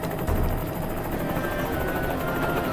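Cartoon helicopter in flight, a steady loud rotor drone with low thumping that runs unbroken through the whole stretch, with no voices over it.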